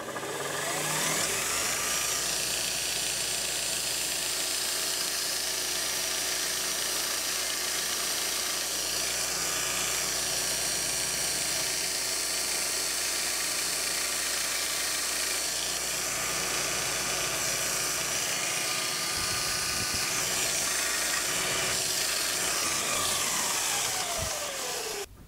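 Makeshift belt grinder running 180-grit belt against steel for polishing, a loud continuous motor whine and abrasive hiss held steady for about twenty-five seconds without a break, close up and with no talking.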